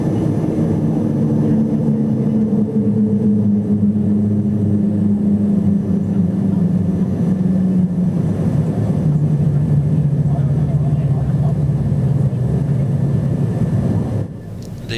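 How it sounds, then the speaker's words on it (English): Steady, loud cabin drone of a Braathens Regional Airlines Avro RJ100 regional jet on approach to Bromma as the flaps extend for landing, with low engine tones shifting gradually throughout before a slight drop at the end. "Sound of the Avro RJ100's flaps coming down as the aircraft becomes fully configured for landing."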